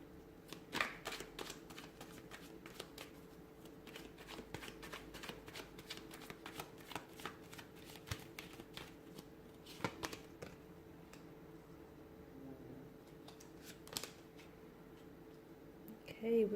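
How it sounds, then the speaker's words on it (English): Tarot cards shuffled by hand in a quiet room, a long run of crisp riffling and flicking taps repeating irregularly at close range, fairly soft, with no one talking. "give the cards a shuffle"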